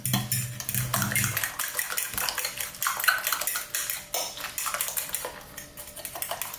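A utensil stirs and beats eggs with garam masala and other spices in a bowl, giving a quick, continuous clinking and scraping of metal against the dish, close and fairly quiet, with no talking.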